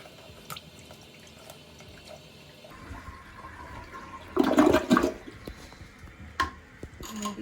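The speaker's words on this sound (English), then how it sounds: "Now to flush." A toilet flushes during hard water stain cleaning of the bowl, with a loud rushing surge of water midway followed by trickling and refilling, alone without talk.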